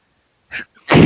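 A sharp sneeze up close: a brief inhaled catch followed by a loud, explosive burst.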